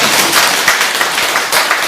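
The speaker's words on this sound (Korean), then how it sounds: "박수 한번 쳐주세요" Applause from a live lecture audience at a Buddhist monk's special talk for an entrance ceremony, a dense continuous wash of clapping lasting about two seconds with no talk.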